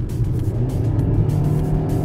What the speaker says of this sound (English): you can hear the engine noise, but it is well contained